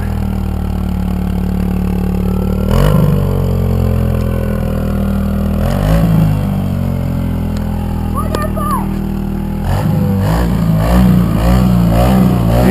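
A Kawasaki KLX110 dirt bike engine idles and revs steadily throughout, a continuous buzzy motor drone that swells in a few throttle blips, with people talking over it.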